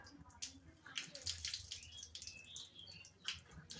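Water splashes and drips near a tap as someone washes their face during wudu ablution, in irregular bursts of splashing with softer trickling between them, close but quiet.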